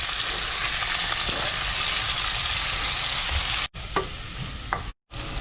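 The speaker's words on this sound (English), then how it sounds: "Then I am going to add the onion and cook them till they are soft." Steady, dense sizzling of onions frying in hot oil, close and continuous, briefly cut off twice near the end.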